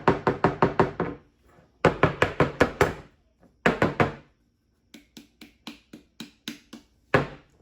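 Pound cake batter pans are patted down on a counter, giving bursts of quick, sharp knocks in runs of five or six, close and fairly loud, with short pauses between groups.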